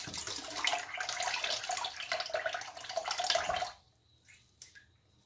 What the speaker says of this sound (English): Washing my gear here.